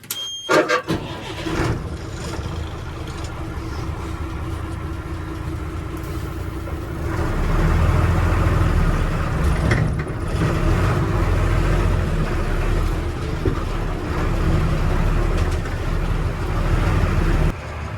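A loaded goods truck drives off with a continuous engine rumble that grows louder and heavier about midway, along with road noise and a brief higher tone near the start.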